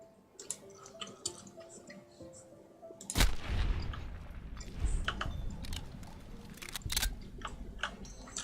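Gunfire in Fallout TTW (Tale of Two Wastelands), with a sharp loud shot followed by a rumbling tail and several more cracks at a steady distance over background game ambience.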